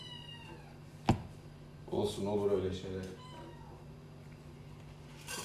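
A house cat meows in a room during a kitchen chat while chicken and rice is prepared, one sharp cry followed by a few softer mews alongside a woman's speech.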